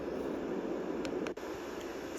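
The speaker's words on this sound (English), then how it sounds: "that first noise that you are hearing in your ears is brown noise" A magicteam sound machine plays brown noise, a steady, even hiss-like wash of noise that continues without change apart from a few faint clicks and one brief dip.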